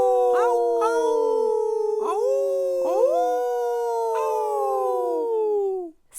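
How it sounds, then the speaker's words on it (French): A wolf pack howls in long, overlapping rising and falling wails, several voices layered and close, ending abruptly. "C'est le chant des loups."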